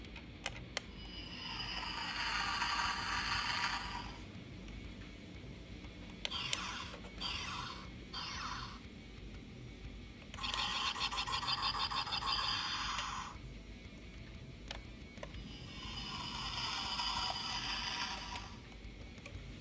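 Electronic sound effects from a Millennium Falcon toy model from The Force Awakens, several bursts of hissing, whirring engine-like noise separated by quieter gaps, moderately faint with no talking.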